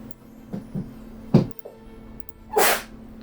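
One loud, sharp sneeze bursts out near the end during a quiet tabletop role-playing session, after a few soft scattered sounds around the table.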